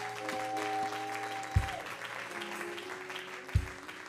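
A church congregation applauds and cheers for Jesus in a steady, full wash of clapping, with a sustained tonal hum underneath and two heavy low thumps.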